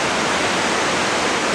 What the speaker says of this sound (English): The Carbon River is for sure raging at this moment.